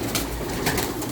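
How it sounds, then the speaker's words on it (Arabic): Pigeons coo in a French meat pigeon loft, with soft, throaty rolling calls rising twice over a steady murmur of nearby birds, close and clear with no talking. "حمام فيه حمام اهو نايم على البيض جوه"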